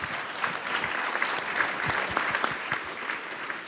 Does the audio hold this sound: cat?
no